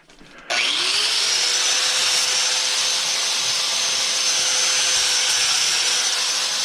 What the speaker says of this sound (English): Get the grinder going here.